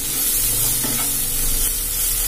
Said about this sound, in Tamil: அடுத்தது கட் பண்ணி வச்ச கொத்தமல்லி சேர்த்து நல்லா வதக்கிக்கணும்.